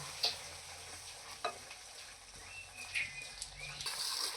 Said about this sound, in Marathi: असं छान मसाला आपला फ्राय करून झालेला आहे।